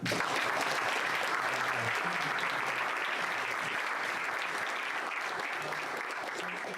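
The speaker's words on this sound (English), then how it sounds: "Round of applause for the..." Dense, steady applause from a conference audience for a panel on digital assets in Crypto Valley, sustained and even at moderate distance for several seconds.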